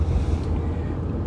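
Steady, loud road rumble and wind noise from inside a car, continuous with no breaks and no talking.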